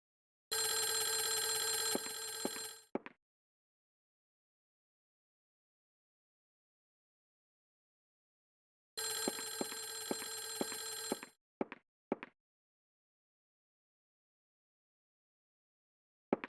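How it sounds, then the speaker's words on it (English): Electronic telephone ringing in the survival horror game Clock Tower: The First Fear, two bursts of loud, harsh warbling rings about eight seconds apart, each ending in a few short clicks, with silence in between. "Then why is it ringing, Jennifer?"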